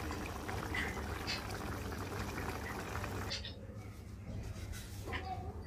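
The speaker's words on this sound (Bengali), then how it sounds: "বলক চলে আসছে, এখন এটাকে আমি ঢাকবো না" A curry of okra, potato and shrimp boiling in an open pot, a soft steady bubbling and burbling with a few brief splashy bursts, fairly quiet and alone.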